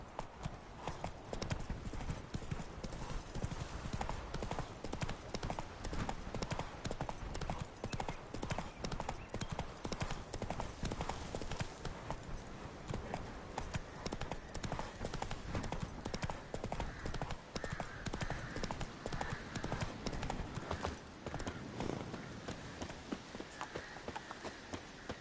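Hooves of Roach, Geralt's horse in The Witcher 3 Wild Hunt, clip-clopping steadily in a trot, dense and continuous, with occasional snorts and game ambience underneath.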